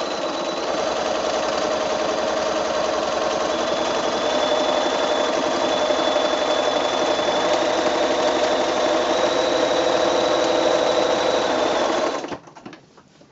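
Sewing machine running steadily for about twelve seconds while a walking foot stitches a parallel straight line across a quilt, a continuous close mechanical whir that cuts off abruptly at the end.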